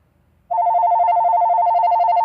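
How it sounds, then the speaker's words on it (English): An incoming call rings on a telephone, starting abruptly after a brief quiet moment as a loud, steady electronic warbling tone that carries on to the end. "Let me pause this to answer this phone call"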